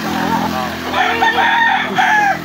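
A rooster belonging to someone named Tyson crows loudly and close in a long, drawn-out call. Faint background voices can be heard before and around the crow.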